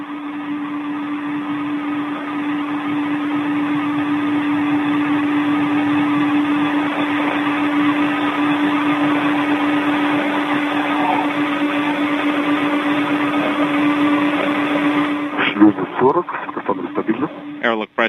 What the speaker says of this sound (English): measuring the pressures inside the airlock as it is currently being depressurized down to vacuum